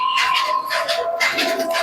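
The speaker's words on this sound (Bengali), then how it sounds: "খুবই সুন্দর কোয়ালিটির কবুতর আছে" A Giribaz pigeon coos close by, a short burst of soft, throaty rolling notes repeated a few times in quick succession.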